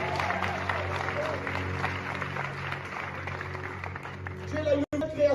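Church congregation cheering and applauding during a sermon, a dense wash of clapping and crowd voices mixed with talk, fairly distant and sustained before a brief cutoff near the end.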